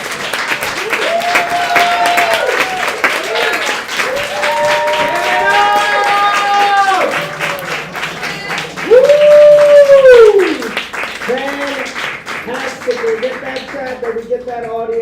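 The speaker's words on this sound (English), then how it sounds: "Give them a round of applause again" Open mic poetry audience applauding after a poem, with steady clapping mixed with cheers and whoops while a host speaks loudly over it.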